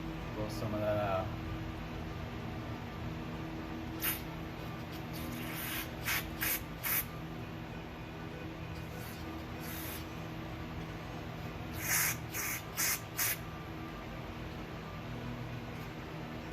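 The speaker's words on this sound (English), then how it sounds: "Brake cleaner, blow some of that out." Brake cleaner hisses from an aerosol can onto the backfiring carburetor of a Walker mower, a quiet close hiss in several short bursts over a steady low background hum.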